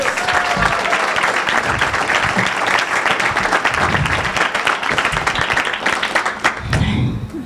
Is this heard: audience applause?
yes